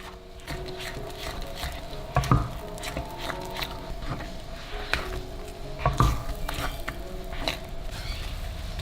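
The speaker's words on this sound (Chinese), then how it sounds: "加入180克白砂糖，继续开小火翻炒。" Lotus seed paste with white sugar being stir-fried over low heat, a steady soft scraping and patter of a spatula with a few louder scoops and knocks against the pan, close and continuous with no talk.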